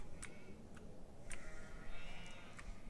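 Sheep bleating in a castle-farm video game, several short bleats scattered across the moment over a steady low background hum, moderately distant and fairly faint.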